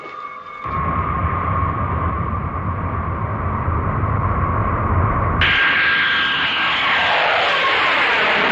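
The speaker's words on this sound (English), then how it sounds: "We have now landed at Hong Kong." Airplane landing at Hong Kong: a loud, continuous engine roar that suddenly shifts to a harsher, brighter rush partway through, sustained to the end with no talk.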